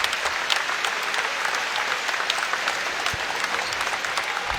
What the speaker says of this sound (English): And Marquise Bolden getting a nice hand from the crowd here at North Carolina.